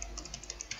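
Quiet, evenly spaced clicks of a computer keyboard as a password is typed, about nine light keystrokes in under a second.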